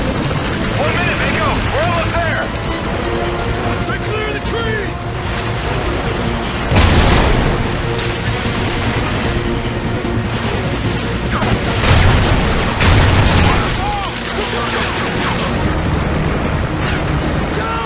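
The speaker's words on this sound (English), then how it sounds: "we have multiple rockets airborne" Rocket strikes and explosions in the shooter game Call of Duty: Ghosts, with heavy booming blasts near 7, 12 and 13 seconds over a constant roar of battle, and soldiers' radio chatter running throughout.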